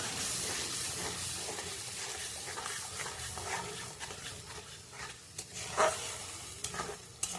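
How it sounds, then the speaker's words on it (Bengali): Ground spice paste sizzling in hot oil left after frying chicken, stirred steadily so the crackling hiss is broken by scraping and a few clinks of the spoon against the pan, close and without talk. "এবার এই তেলের মধ্যে মশলা বাটাটা দিয়ে দেবো। এটা ভালো করে নাড়াচাড়া করবো।"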